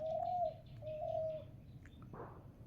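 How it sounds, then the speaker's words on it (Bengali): A dove coos nearby in a village, giving two drawn-out calls followed by softer trailing notes, alone against a quiet background. "এখানে একটা ঘুঘু পাখি দেখেন আসছে এই ঘুঘু পাখিটা ডাকছে"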